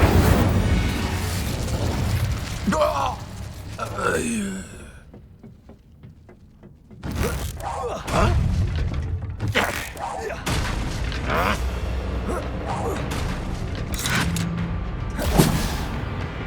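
An Incendio fire spell cast in Hogwarts Legacy, heard as whooshing, crackling bursts and booms amid combat, with a brief quiet gap before the blasts resume.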